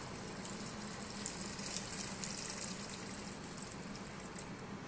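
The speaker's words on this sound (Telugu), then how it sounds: "ఈ వెజిటేబుల్ అన్నీ ఉడకాలి కాబట్టి తగినన్ని వాటర్ వేసేసుకుందాం" Water poured into a pot of vegetable chicken curry, a steady faint trickling and splashing that runs unbroken and close by, with no voices over it.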